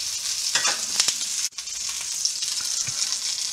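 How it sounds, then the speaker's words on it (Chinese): Duck breast frying skin-side down in a pan over low heat, a steady, close hiss of sizzling fat with a few sharper crackles and one brief dropout. "也是小火，这样慢慢的煎它"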